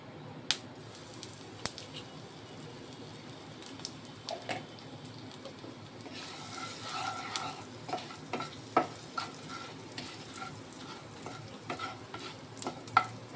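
Asafoetida hits hot oil for potato curry (aloo dum), giving a quiet, continuous sizzle broken by scattered light taps and scrapes of stirring against the pan.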